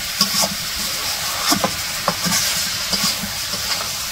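Eggplant stir-fried in a pan during simple village home cooking: a steady oily sizzle broken by repeated spatula scrapes and stirring clatters every half second or so, close by with no talking.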